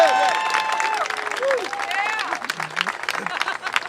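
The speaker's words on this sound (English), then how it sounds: "Will you guys give my wife a round of applause?" Audience applause at a chef's cafe celebration in a city plaza, a steady wash of clapping from a crowd with cheering voices and talk layered over it throughout.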